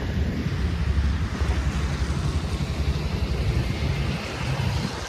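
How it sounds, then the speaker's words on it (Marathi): Floodwater surges past after a day of heavy rain, making a continuous loud roar of rushing water with low rumbling and wind buffeting the microphone throughout, and no voices. "हे बघा पाणी कसलं पाणी वाहतंय बेकार"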